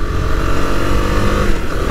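A Husqvarna Vitpilen 250 motorcycle is ridden with its engine loud and close, giving a continuous buzzing drone with slight rises in revs and no voices.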